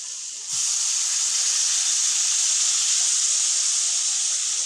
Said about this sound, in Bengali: ভাজা হয়ে গেছে মশলাটা, আমি এর মধ্যে জল দিয়ে দিচ্ছি।